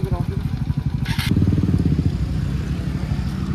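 A motorcycle engine runs close by, its rapid pulsing putter steady and fairly loud, with a brief hiss near the start.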